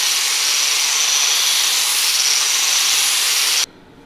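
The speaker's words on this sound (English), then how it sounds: "Here's my flappy new flap disc for metal finish" An angle grinder fitted with a flap disc sands metal while a large wrench is shaped into a short sword, giving a loud, steady, bright hiss that holds evenly and then cuts off abruptly near the end.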